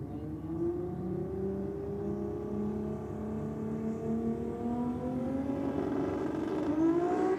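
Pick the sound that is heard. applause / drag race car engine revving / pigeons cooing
drag race car engine revving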